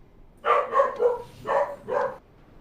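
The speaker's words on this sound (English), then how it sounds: "the sound of a dog barking" A dog barks from somewhere overhead, about five sharp, fairly loud barks in quick succession, then quiet.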